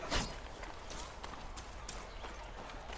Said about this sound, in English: You can ride horses.